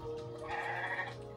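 A sheep in a video game gives a drawn-out wavering bleat, moderately loud and alone over a faint steady background hum.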